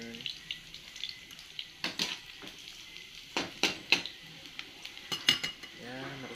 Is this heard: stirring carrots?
yes